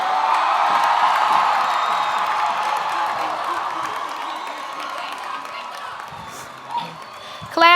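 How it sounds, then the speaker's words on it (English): A large crowd at a 2024 high school graduation ceremony cheers and applauds graduates, a broad roar of clapping and whoops that slowly eases before a final burst near the end. "can you all give a big, huge round of applause for these graduates?"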